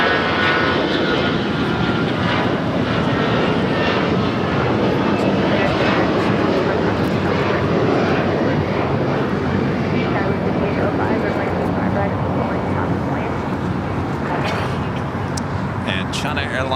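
Jet engine roar from an American Airlines Airbus A321 at LAX fills the air as a loud, steady wash of noise, with someone talking over it throughout.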